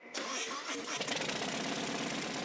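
Harley-Davidson motorcycle engine cranks and fires, then settles into a loud, steady rumbling idle close by, heard on its own.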